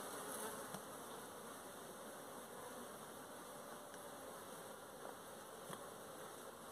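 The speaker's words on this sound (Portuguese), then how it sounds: "Esse enxame aqui é mais dócil do que o outro." Honeybee colony buzzing at an open hive with a honey super, a dense, steady swarm drone that stays loud and close throughout with no talking.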